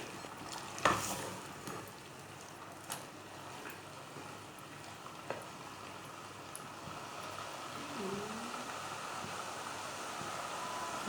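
Dal frying in a pan while being stirred, a steady soft sizzle with occasional scraping clicks from the spoon, close by and fairly quiet, with no talking.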